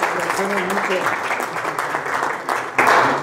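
A seminar audience at a Linde Ecuador training event applauds the speaker, a steady wash of clapping mixed with voices and murmuring, swelling louder near the end.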